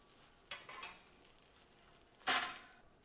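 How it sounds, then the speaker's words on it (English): Chicken wings pulled from an oven and turned over on foil: two short bursts of crinkling foil and clattering handling, one brief and scattered, the other sharper and louder, separated by a quiet gap with faint background hiss. "I'm going to take them out of the oven and flip them over and put them back in."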